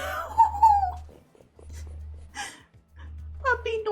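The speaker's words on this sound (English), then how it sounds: "Puppy noises." Soft high whimpers and breathy whines from a wolf puppy in Minecraft come in short bursts, broken by pauses and a low steady hum of game background sound.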